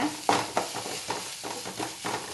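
Tomatoes frying in a pan until soft for palak paneer, a low sizzle broken by several brisk stirring scrapes in an irregular rhythm, close and fairly quiet.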